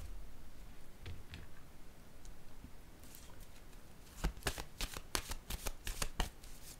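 Tarot cards shuffled and flicked by hand: a soft rustle at first, then a run of crisp, close riffling snaps in quick bursts, with no talking.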